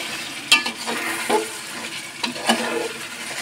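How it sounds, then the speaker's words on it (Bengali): Chicken biryani cooking in a pot is stirred, a spoon scraping and clattering against the metal a few times over a constant sizzle, close and fairly loud, with no voices. "আমি নাড়া দিচ্ছি"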